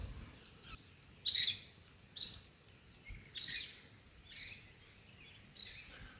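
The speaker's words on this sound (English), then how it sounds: "Been seeing heaps of really beautiful birds this morning." Birds call in the bush on a morning, with about six short bright chirps and tweets spaced irregularly over a very quiet background, fairly close and alone.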